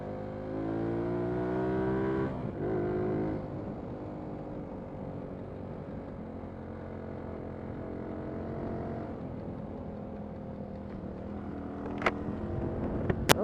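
A motorbike engine revs up nearby and then settles into a steady, fading drone as the bike rides away, with a few sharp clicks and knocks near the end.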